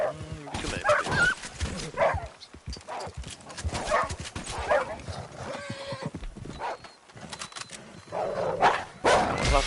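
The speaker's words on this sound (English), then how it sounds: "I heard more puppies." Puppies barking in the Red Dead Online video game, mixed into busy in-game sound dominated by clip-clopping horse hooves and repeated neighing, with the barks partly masked throughout.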